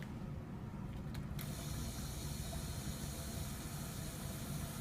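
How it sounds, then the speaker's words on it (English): A laboratory vacuum pump runs with a steady, loud mechanical hiss and hum that fills the whole stretch, and a brief click sounds early on. "So the first thing we do is turn on the vacuum."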